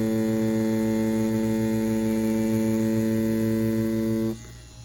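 An Ambition Soldier wireless tattoo machine runs with a steady, loud, tonal motor buzz and a fine pulsing edge, then cuts out abruptly shortly before the end, leaving faint background noise.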